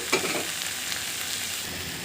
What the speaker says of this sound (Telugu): ఇప్పుడు ఉడికించి పెట్టుకున్న ఈ పెసరపప్పును కూడా ఇందులో వేసుకోవాలి